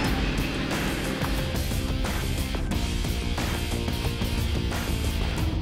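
Custom '32 Roadster hot rod with a 440 HP engine and Tremec five-speed being driven, a steady rough engine rumble mixed with road and wind noise, close and continuous, no talking.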